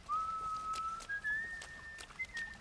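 Clean whistling from The Last of Us Left Behind, a single sustained tone that steps upward in pitch over a couple of seconds, fairly close and alone without talk.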